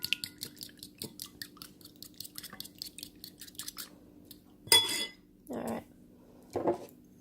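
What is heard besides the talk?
mixing French toast batter with milk in a bowl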